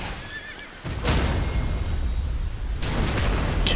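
Horse in the video game Elden Ring giving a loud whinny, followed by heavy hoof and impact noise and a second burst of rumbling action sound, close and forceful.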